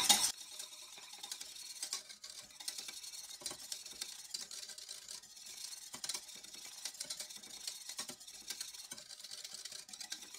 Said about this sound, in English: you want to whisk it because it will go from boiling to boiling over in a heartbeat